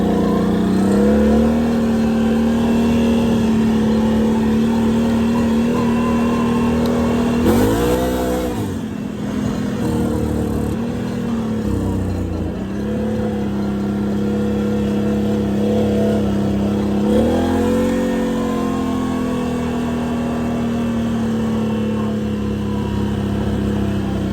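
A Can-Am Outlander 800 ATV fitted with a clutch kit drones loudly and steadily while riding, its engine pitch rising and falling with throttle changes and a dip around the middle, heard up close.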